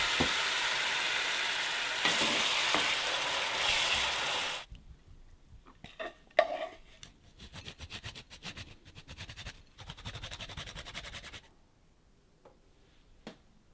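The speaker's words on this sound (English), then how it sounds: "I am adding some balsamic and some birch syrup that we have." Balsamic and birch syrup sauce bubbling in a pan, with a loud steady sizzle for the first few seconds, then quieter crackling pops and stirring clicks that fade out near the end.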